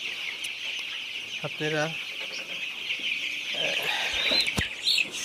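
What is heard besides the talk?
16-day-old chickens clucking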